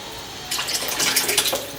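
Water poured into a pan of simmering fish and potato curry, Bengali madhu tengra fish with potatoes, a steady splashing pour starting after a brief quiet moment and continuing close and moderately loud.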